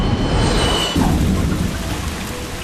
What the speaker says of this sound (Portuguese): Uma chuva pesada se abate sobre um pequeno aeroporto em Dubrovnik, na Croácia.